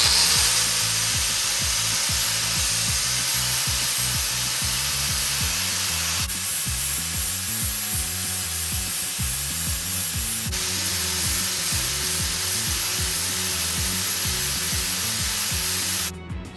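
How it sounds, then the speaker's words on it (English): A flap disc at 120 grit grinds a steel knife blade, a loud, continuous abrasive whir with a steady motor hum heard close and alone, with slight shifts in tone as the pressure changes. "I'm going to drop back down to 120 on the flap disc and see if that does it"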